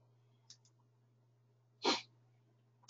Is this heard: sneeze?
yes